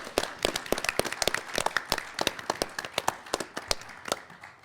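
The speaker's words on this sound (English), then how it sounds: "Let's have a big round of applause for all of our competitors." Audience applauding quiz show competitors at a middle school finals, sparse and distinct individual claps from a small group, fairly quiet with an uneven rhythm.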